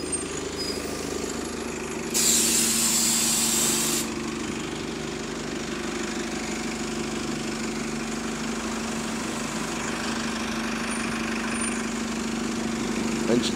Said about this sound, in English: Engine sounded nice, I can't lie.